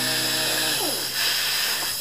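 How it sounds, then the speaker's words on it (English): A steady, high-pitched whirring power sander runs continuously, with a harsh grinding hiss as it coarsely sands the wooden surrounds of door panels up close. "I am coarsely sanding the surrounds of the door panels for the neon"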